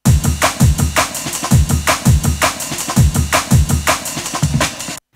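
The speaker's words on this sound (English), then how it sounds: "Just have a variation in the drum beat." A Korg Volca drum machine plays a varied drum and bass beat in an early-1990s style: punchy kicks and snappy hits in a fast, busy, steady pattern, loud and close, that stops abruptly near the end with no talking.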